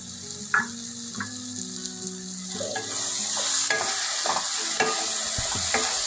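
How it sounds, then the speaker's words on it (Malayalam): Curry leaves crackle and sizzle in hot oil while a chicken curry is cooked, a steady frying hiss that thickens midway, broken by scattered stirring knocks. "ഇനി നമുക്ക് 1 തണ്ട് കറിവേപ്പില ഇട്ട് കൊടുക്കാം"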